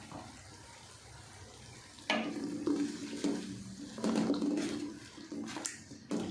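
Water is added to a hot cooking pot of aloo baingan masala over raised heat, causing bursts of sizzling and splashing that come in several surges after a quieter start, close and fairly loud.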